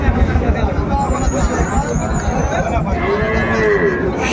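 Sahiwal bull calves low amid the crowd at Amabari cattle market in Dinajpur, where a steady din of people talking surrounds them and other noise drifts in.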